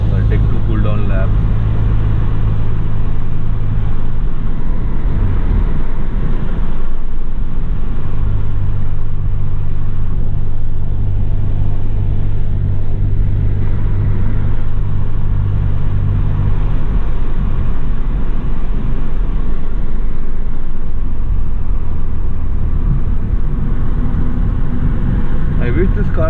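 An RS245 car lapping a race track at Buddh International Circuit, its engine a steady, loud, close rumble throughout, with speech over it.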